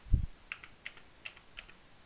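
Sharp, sparse clicks tap out irregularly and close up, like buttons pressed during Mount & Blade 2 Bannerlord beta gameplay, after one low thump at the start, with no talking.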